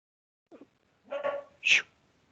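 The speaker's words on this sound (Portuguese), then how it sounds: "Cachorro tá latindo aqui" A dog indoors gives a faint yip, then two short, close barks in quick succession against a quiet room.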